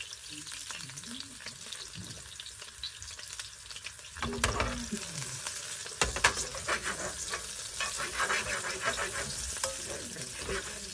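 Shrimp frying in a pan for a shrimp mayo butter dish sizzles steadily while being stirred, with louder scraping and crackling bursts in the second half.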